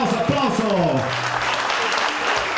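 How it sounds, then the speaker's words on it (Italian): Crowd applause at an award podium during a drifting competition prize ceremony in Vieste, steady clapping with a voice talking over it at the start. "applauso, applauso!"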